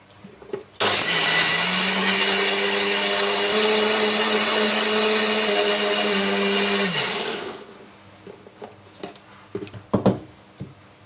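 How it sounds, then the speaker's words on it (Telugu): A kitchen mixer grinder whirs loudly for about seven seconds as it grinds soaked green gram with a glass of water into pesarattu dosa batter, then winds down, followed by a few clattering knocks of the jar and lid. "ఒక టీ గ్లాస్ నీళ్ళు పోసుకొని మిక్సీ మూత పెట్టుకొని మిక్సీ పట్టుకుందాం."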